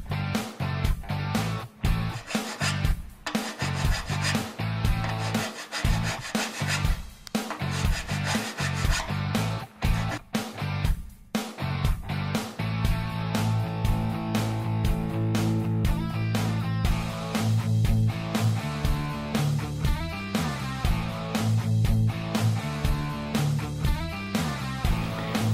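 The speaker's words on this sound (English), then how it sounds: "I'm using a grinder and file to make a couple sword strikes on the edge of the shield." A grinder and a hand file work the edge of an aluminum sheet-metal shield, making steady rasping and rubbing strokes that run continuously for the whole stretch, close and fairly loud.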